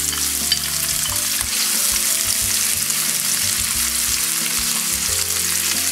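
Chopped onion sweating with a little salt in a pan as the base for artichokes with clams, frying with a loud, constant sizzle and occasional stirring scrapes, no voices.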